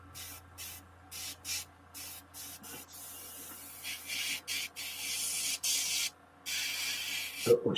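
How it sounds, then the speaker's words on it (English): Airbrush spraying ivory paint in repeated bursts of steady hiss, each lasting a second or so with brief pauses between, fairly close and growing longer toward the end, with no talk over it. "Oh, somebody's airbrushing."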